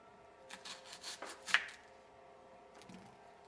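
Half an onion sliced into pieces with a knife on a board, a series of soft rasping, scraping cuts in quick irregular bursts, faint and close, followed by a couple of quieter strokes.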